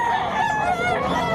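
A rooster crows once at a chicken market in Bocaue, Bulacan, a short clear rising and falling call, fairly close over faint background noise.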